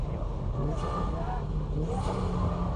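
A BMW drifting and understeering gives a continuous, loud, droning engine roar with rumbling low-end and faint tire noise, with a voice talking over it.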